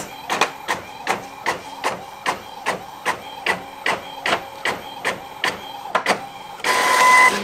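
Inkjet printer printing onto a shirt transfer sheet, a steady run of sharp rhythmic mechanical clacks from the print head carriage about twice a second, close and clear, ending in a louder whirring feed as the sheet comes out.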